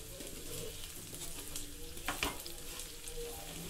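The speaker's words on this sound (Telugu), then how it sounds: "ఇప్పుడు ఈ ముక్కలు ఇంకా అలా అలా నూనెలో వేగాలి" Chicken pieces fry in cold-pressed groundnut oil for a pickle, a steady hiss of sizzling bubbling throughout at moderate level, with a brief stir or scrape near the middle.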